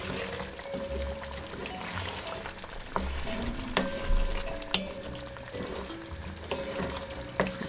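Beef simmering in its own released juices for Jamaican brown stew, giving a steady close bubbling sizzle in the pot with occasional stirring clinks and small knocks, no voices.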